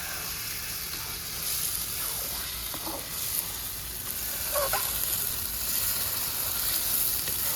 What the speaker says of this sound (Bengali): একদম কড়াতেই কম আছে নেড়ে নেড়ে শুকনো করে নেবো